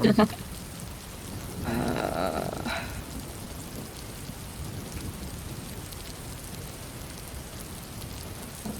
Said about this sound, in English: you can barely hear Mavis over the thunderstorm